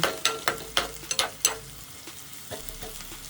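Okra curry frying in a pan, with a run of sharp, close stirring scrapes and knocks over a low sizzle, then a quieter stretch with a couple of softer strokes.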